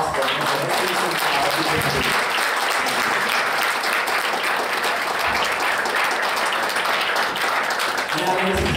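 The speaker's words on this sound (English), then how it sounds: "please round of applause for the presentation." An audience at an awards event applauds loudly and steadily, dense clapping filling the whole stretch without a break, with a voice heard briefly near the start and end.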